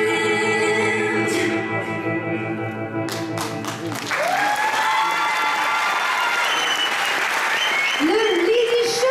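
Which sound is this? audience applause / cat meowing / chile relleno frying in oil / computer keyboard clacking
audience applause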